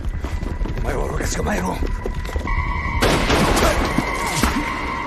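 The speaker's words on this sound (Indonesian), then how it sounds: "Di atas tebing, Beonggu beradu tembak dengan sniper Jepang." Rifle exchange between a soldier on a cliff and a Japanese sniper in a war film, with sharp gunshot cracks and bursts over a busy, dense soundtrack and a sustained tone joining partway through.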